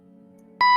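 A sprinkler system alarm gives a sudden loud electronic beep tone after a faint steady buzzing hum, sharp and piercing near the end.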